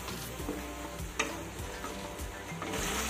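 Spice paste with mustard stir-fried in a pan, giving a steady close sizzle with soft scraping stir strokes and a few light ticks throughout.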